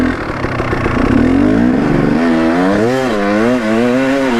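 A dirt motorbike revs hard and loud in first gear climbing a steep hill, its engine note wavering up and down as the throttle opens and eases close to the rider.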